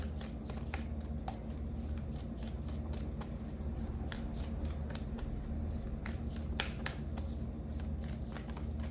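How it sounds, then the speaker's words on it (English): A deck of Shaman Oracle cards is shuffled by hand and cards are pulled, giving close, soft riffling and flicking with repeated sharp card snaps throughout and no talking. "let's pull a Shaman Oracle card"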